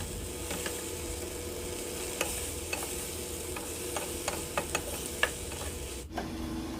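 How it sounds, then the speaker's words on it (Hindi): Okra frying in a pan for masala bhindi gives a continuous close sizzle, broken by a string of light spatula taps and scrapes that come faster toward the end. No one speaks. "टेन मिनट्स हो चुके हैं मुझे भिंडी फ्राई करते हुए"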